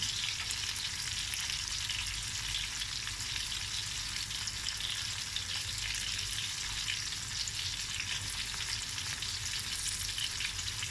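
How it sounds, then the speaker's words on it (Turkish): Steady, crackling sizzle of meatballs frying in a hot pan, continuous and fairly close, with no talking. "Köftelerimi şöyle kıpkırmızı arkalarını kızarttım."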